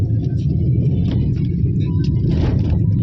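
A car driving on a road during a one-day trip gives a steady, loud low rumble of engine and road noise throughout, with no clear voices.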